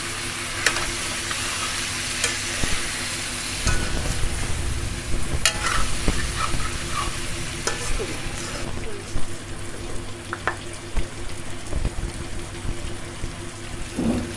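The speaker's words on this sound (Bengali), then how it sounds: "এবারে এই সবজিগুলোকে একটু ভেজে নেব।" Vegetables frying in a pan with turmeric, giving a steady crackling sizzle broken by scraping stirs and occasional clinks, with a voice speaking intermittently over the cooking.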